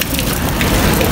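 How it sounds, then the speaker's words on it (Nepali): Water drips and patters steadily from above inside a building in Pokhara. The dense splashing sound is close and carries on for the whole brief moment, with no voices. "यहाँबाट टप टप पानी झर्दै झरिरहेछ"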